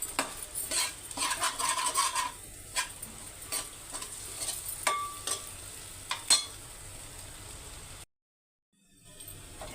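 Food being turned in a cooking pan before rice goes in, with repeated sharp scraping and clinking strokes of a utensil over a soft sizzle, close up, ending in a brief silence before the hiss returns.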